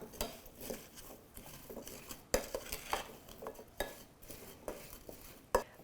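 Garlic powder, black pepper, salt and parsley being mixed together with a utensil in a bowl, a near series of light clinks and scrapes in an uneven rhythm with a few sharper taps, no talk.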